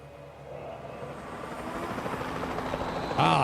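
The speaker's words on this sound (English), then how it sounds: "We're gonna try the helicopter first." Helicopter flying in the video game Jurassic World Evolution 2, a steady rotor drone that builds gradually louder over a few seconds, with a brighter burst of sound near the end.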